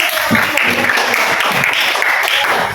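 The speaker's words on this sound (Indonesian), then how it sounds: "Berikan aplaus dulu." Classroom applause in an economics lesson, a steady burst of clapping from a group of students that fills the whole moment, with some voices mixed in underneath.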